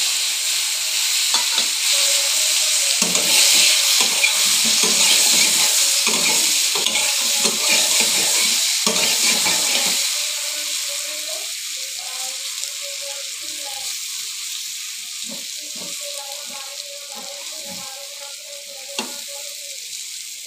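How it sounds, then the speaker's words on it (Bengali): Boiled taro pieces with salt and turmeric sizzle loudly in a hot wok, with close scraping stirs early on, then the frying settles to a quieter steady crackle. "এখন কচুগুলো কড়াইতে দিয়ে দেবো।"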